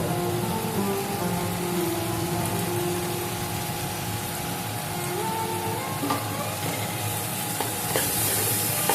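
Paneer masala with ground cashew and garam masala is stirred in a pan, a continuous soft sizzle with occasional spoon scrapes and clinks, close and steady with no voices.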